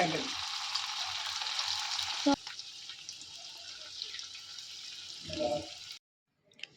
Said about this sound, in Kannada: ಆಲೂ ಡ್ರ್ಯಾಗನ್ಗೆ ನಾನೀಗ ಆಲೂನೆಲ್ಲ ಫ್ರೈ ಮಾಡಿಕೊಂಡೆ ನೋಡಿ.